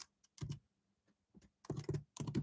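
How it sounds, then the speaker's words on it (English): Quiet, close computer keyboard typing in short bursts of rapid key clicks, separated by brief pauses. "So if you hear any typing, that's just me."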